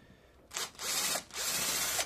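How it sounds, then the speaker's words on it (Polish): A cordless screwdriver whirs in short powered bursts while backing star-head screws out of the electronics of a Radmor CB radio, close up, loud, and alone. "Tylko muszę wziąć sobie inną wkrętareczkę, bo tu już śrubki są na gwiazdkę, żeby odkręcić tą elektronikę."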